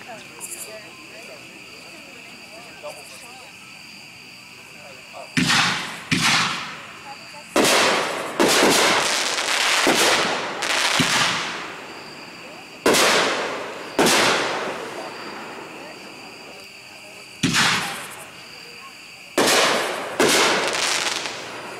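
A 6-inch Bang Bang firework shell explodes at a fireworks demo, producing a series of sharp, loud bangs in clusters with crackling decays, against a quiet background of night insects.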